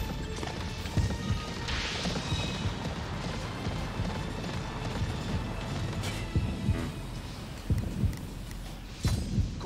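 A horse gallops in the video game Attack on Titan 2, with rhythmic hoofbeats mixed with clanking mechanical effects and occasional heavier thuds, fairly close and without talk.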